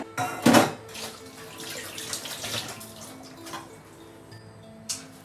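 Dishes being washed under a running tap in a home kitchen, with steady water flow and a few clinks of utensils and pots against the sink.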